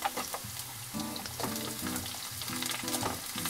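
Chopped onion tipped into garlic already frying in a pan, a steady close sizzle with soft stirring scrapes and tonal kitchen hum underneath, no talking.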